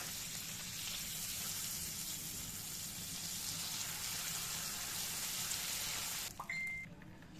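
Butter hits melting sugar for homemade Twix caramel, setting off a continuous bubbling sizzle that stays even for several seconds, then stops abruptly, leaving a quiet tick and faint kitchen sounds.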